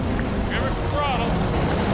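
A logging truck's heavy engine drones loud and close as throttle is applied, a steady rumbling roar with people talking over it.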